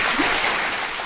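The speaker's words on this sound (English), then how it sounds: "I have to give you a big round of applause" A loud, dense round of applause from a crowd at a 48th birthday party, brief and sustained with no pauses.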